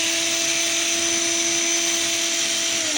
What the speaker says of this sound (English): How simple to sharpen a knife with just a battery operated drill machine.